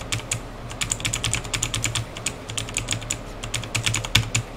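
Computer keyboard keys mashed rapidly while playing the rhythm game osu!, a dense run of sharp clicky taps in uneven bursts, close up over a low steady hum, with no talking.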